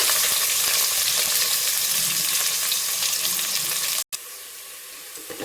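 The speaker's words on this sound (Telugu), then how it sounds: "దీనిలో ఆనియన్స్ వేసి ఫ్రైడ్ ఆనియన్స్ వేసుకున్నామండి." Onions frying in oil for egg biryani, a loud, continuous close-up sizzle that cuts off abruptly for a moment and then resumes slightly softer.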